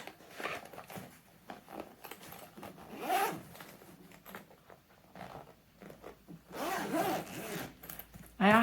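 A zipper on a crafting travel bag is dragged open in several rasping pulls, close and clear, with a longer zip near the end and short scrapes in between.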